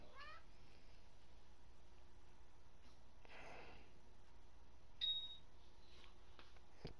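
A house cat meows faintly in the background during a live fishing game session, a few soft rising calls near the start amid quiet steady room noise, with a brief louder chirp later.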